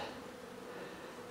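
Honey bees buzzing around an opened beehive during an inspection, a soft, steady hum with no breaks, quiet and up close.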